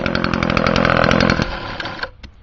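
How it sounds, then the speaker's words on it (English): An old lawnmower motor, around 35 years old, runs with a loud, close, rapid putter, then cuts out and sputters down to a few scattered pops before going quiet. "That motor is about 35 years old, so I'm actually surprised it still runs."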